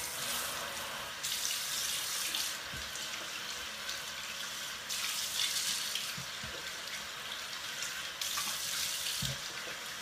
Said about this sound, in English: I'm gonna rinse my face in a minute.